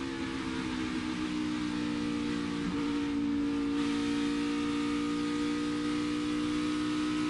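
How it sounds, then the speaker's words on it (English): NASCAR Xfinity Series race cars on aggressive throttle at the O'Reilly Auto Parts 300, with a steady, loud engine drone holding its pitch over continuous crowd and track noise, with no break or fade. "Listen to the throttle, how aggressive they are in the throttle."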